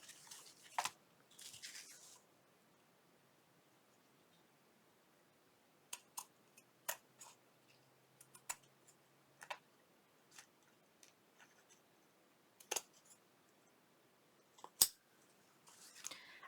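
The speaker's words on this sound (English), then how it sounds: "I think I'll cut it off. Okay, let me cut this off." Fabric scissors snipping through fabric for a handmade journal cover, a few crisp close cuts early on, then a scattered series of sharp separate snips in a quiet room.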